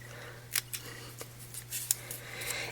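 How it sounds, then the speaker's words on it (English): Small snips cutting a little square out of the corner of a folded card, giving a few quiet crisp snips close by in an otherwise still room. "I'm just going to cut out the little square in the corner. So grab my snips."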